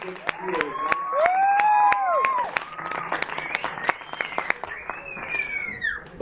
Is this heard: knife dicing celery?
no